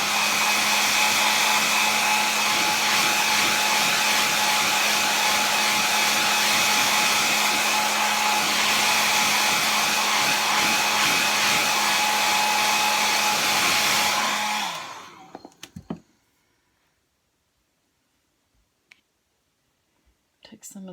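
Hair dryer blowing steadily on wet acrylic paint on a flower collage, a loud continuous whir for about fourteen seconds before switching off, followed by a few faint clicks and handling noises in near silence.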